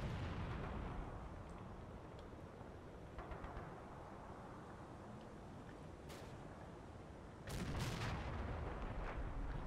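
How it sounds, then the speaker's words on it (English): Mortar rounds land in a sunken lane during a war video game, heard as a few distant muffled thumps over a low rumbling battlefield bed, with a louder burst near the end. "Some mortar rounds landing in the sunken lane there."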